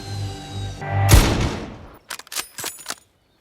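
A sharp gunshot cracks out after a low humming aircraft engine, followed by a trailing rumble and then a few quick, crisp shots in succession before silence, set near a guarded ravine in a creature thriller.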